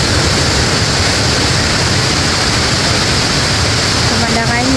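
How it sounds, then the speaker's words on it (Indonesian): Bantimurung waterfall in Bone, a constant loud broadband roar of falling water that fills the whole stretch, with a faint voice creeping in at the very end. "kita sekarang lagi berada di air terjun Bantimurung Bone-Bone"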